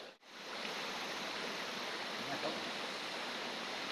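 A forest stream flows with a steady, broad rushing wash of water that holds evenly for several seconds after a brief quiet start, with no voices.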